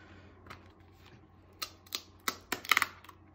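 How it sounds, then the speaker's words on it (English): Holographic security stickers peeled off a Trezor One hardware wallet box, a few sharp crackling tears and clicks growing louder toward the end, close and alone. "So let me open these holographic stickers here."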